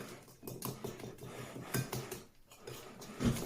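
A spoon scrapes and taps steadily against a bowl while stirring banana cake batter, a soft irregular clatter with a couple of louder knocks, no talking.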